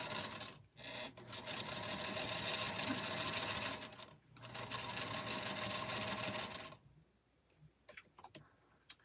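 A sewing machine stitches a quilted table runner in two long, steady runs of rapid mechanical whirring, briefly pausing between them, then stops, leaving faint clicks and handling noises.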